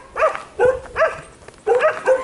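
A vicious dog in Jamaica barks and yelps in a string of five quick, loud, whiny bursts, close by and uneven in rhythm, with no speech over it.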